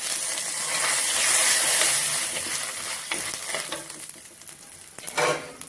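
Cumin seeds and dried red chilies, Kashmiri and round chilies, are stirred and roasted in a hot pan, a close crackling sizzle with scraping stirs that fades, then swells briefly near the end.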